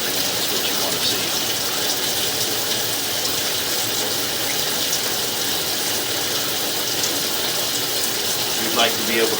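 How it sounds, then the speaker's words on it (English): Water running steadily into a house drain trap, a loud continuous rushing gush with no letup, as at a plumbing inspection of a home's drain line. "the water is escaping through the other side of the trap at the same rate it's going in"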